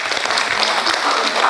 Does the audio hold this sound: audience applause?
yes